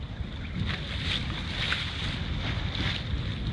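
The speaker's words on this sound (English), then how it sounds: "No wind, so I'm on the motor doing 4 knots." A single-handed sailboat motoring at about 4 knots in calm, windless conditions off the Spanish coast, giving a steady low engine drone with broadband water and wind rush throughout, no speech.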